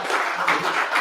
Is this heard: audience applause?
yes